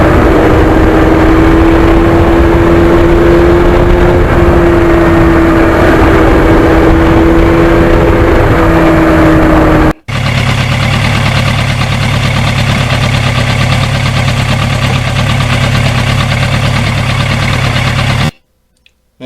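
A 1991 Yamaha FZR 1000 motorcycle engine runs loud and close with a steady, rough idle drone. Partway through it cuts abruptly into a deeper, throbbing hum, then stops dead near the end.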